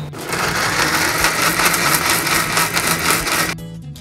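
Mixer grinder jar whirring at full speed as it grinds spices with water into a masala paste for fish fry, a loud steady motor whine lasting several seconds before cutting off near the end.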